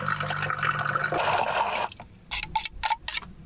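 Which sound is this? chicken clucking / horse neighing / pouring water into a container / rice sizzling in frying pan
pouring water into a container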